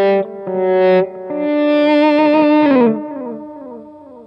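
A Squier Contemporary Telecaster RH electric guitar, played through distortion and echo effects, sounds several sustained notes and chords that swell in and cut off as the volume knob is worked, ending in a long fading ring with no talking.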